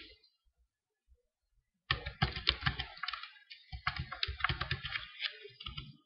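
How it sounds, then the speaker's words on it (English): Typing a user name on a computer keyboard while signing in to a Google account: after a brief silence, a rapid, close run of crisp key clicks with short pauses between bursts, with no talking. "with that we type in our user name and"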